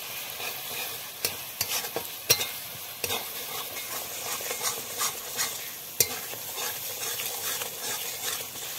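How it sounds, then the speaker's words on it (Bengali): A mustard and green chili paste masala sautés in a pan with a bright, constant sizzle, and a spatula scrapes and taps against the pan at irregular intervals. "মশলাটা কষানো হয়ে গেছে।"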